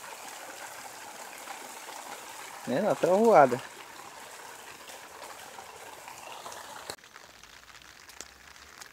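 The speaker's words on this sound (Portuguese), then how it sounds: "E aqui a chuva continua, pessoal." Rain falls on a country construction plot, a steady soft hiss that continues throughout. A person speaks briefly over it and the sound thins toward the end.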